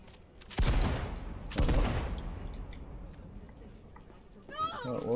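Cyberpunk 2077 firefight: two loud, close bursts of gunfire a second apart, followed by decaying rumble, with a player's voice briefly heard near the end.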